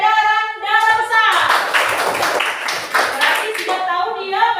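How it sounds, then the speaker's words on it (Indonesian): A classroom of students claps for a student group that has just presented on the systemic circulation, a dense burst of applause lasting several seconds with speech heard before and after it. "tepuk tangan buat kelompok peredaran darah besar"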